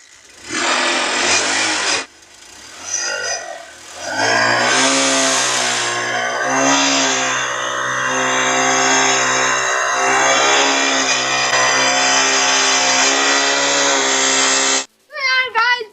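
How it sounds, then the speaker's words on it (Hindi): A motorcycle engine runs steadily and loudly for most of the clip while being used to inflate a tractor inner tube, its droning hum continuous after a short burst and pause at the start. "उसके बाद बाइक को स्टार्ट करेंगे।"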